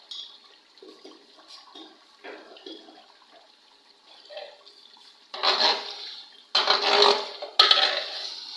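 Cumin seeds dropped into hot oil in a pot while cooking chicken haleem, giving a loud hissing sizzle that bursts up in three waves after quieter clatter and handling noises.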